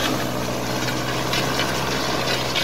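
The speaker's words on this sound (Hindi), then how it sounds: "देखिए किस प्रकार यह मिट्टी को पलट रही है" A tractor-driven rotary disc power harrow, an Ambika hydraulic model behind an Arjun Novo 605 tractor, turns soil in a field, giving a steady, loud mechanical drone and rumble that runs without pause.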